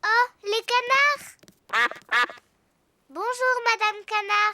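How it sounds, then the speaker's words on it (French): Cartoon ducks in Peppa Pig give bright, repeated quacks in short bursts, clear and close, with a pause between groups of calls. "Oh, les canards."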